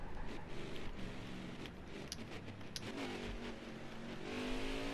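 Race car in NASCAR Heat 5 on the Indianapolis road course, engine roaring steadily as the car brakes hard and then revs back up, loud and continuous throughout.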